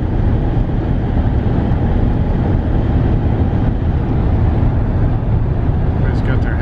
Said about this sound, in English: It's kind of cool running next to this train.